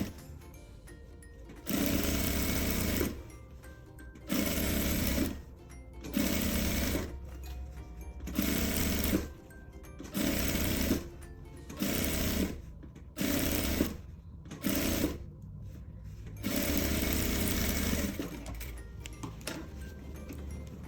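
A sewing machine stitches a seam joining two fabric pieces for a maternity bag, running in about nine bursts of a few seconds each with short pauses between, close and clear.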